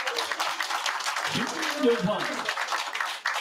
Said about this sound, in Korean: 큰 함성과 박수 한번 부탁드리겠습니다